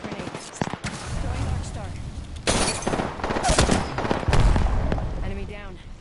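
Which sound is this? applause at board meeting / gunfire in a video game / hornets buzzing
gunfire in a video game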